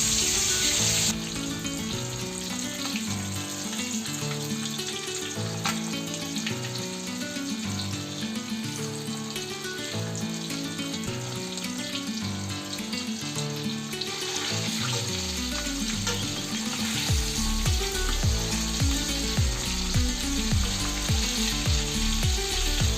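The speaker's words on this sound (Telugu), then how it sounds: "ఒక బాండీలో నూనె వేసుకొని ఆ నూనె మంచిగా గరంగా కాగిన తర్వాత మనం ఒక్కొక్క ముక్కను తీసుకొని మంచిగా నల్లగా అయ్యేటట్టు ముక్కలను ఫ్రై చేయాలి" Fish pieces frying in hot oil in a pan for a Telangana-style fish fry, a continuous close sizzle and crackle with faint stirring and clinks, no talking.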